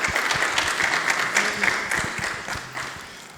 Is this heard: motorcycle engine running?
no